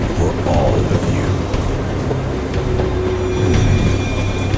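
Rumbling train in motion in the video game Hatred, a steady low rolling drone with faint rail clatter and a high metallic whine running throughout.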